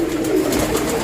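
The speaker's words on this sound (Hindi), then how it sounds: "ये कबूतर है" A pigeon coos in soft, low, rolling murmurs, close by and continuous, over a faint background hum.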